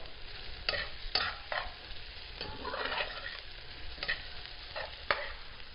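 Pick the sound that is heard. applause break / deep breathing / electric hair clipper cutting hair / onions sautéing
onions sautéing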